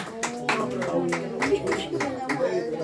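Guests applaud Nicole at a quinceañera with a mariachi band present, a lively burst of clapping with regular strong hand strikes over a low background murmur, fairly close and sustained for a few seconds.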